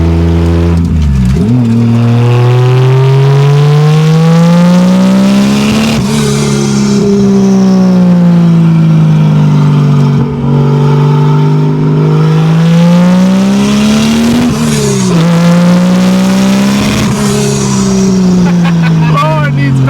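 A 1987 Toyota Supra with a swapped 2JZ-GE engine running naturally aspirated-to-turbo revs loudly and close while driving, the engine note rising and falling through repeated throttle pulls and gear changes.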